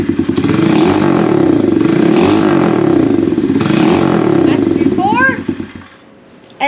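A pit bike with its old muffler revs loudly and raggedly in repeated surges, close up, before cutting back to idle. Brief voices are heard near the end.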